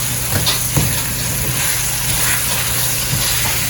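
Palak keema with chilies sizzling steadily in a hot pan while being stirred and mixed, a close, continuous frying crackle with soft scraping strokes throughout.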